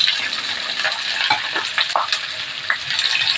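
Sliced large onions sauté with bitter gourd and potato in a pan, a loud close sizzle with repeated spatula scrapes and stirring knocks, no voices.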